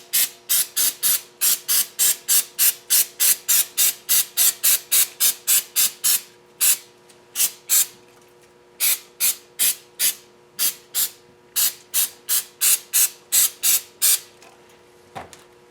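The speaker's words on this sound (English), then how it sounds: "I'll spray them down, all of these, a few more times." A spray bottle of cleaner is pumped rapidly over and over onto KA24DE engine parts, sharp hissing bursts in a steady rhythm with a few short pauses, close and loud.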